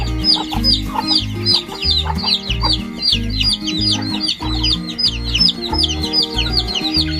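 Many chickens cluck and chirp busily over a steady low rhythmic hum, a dense, continuous barnyard chatter.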